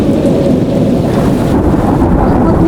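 A cartoon nor'wester storm brings loud rumbling thunder over heavy rain and wind, filling the clip with a dense, continuous roar.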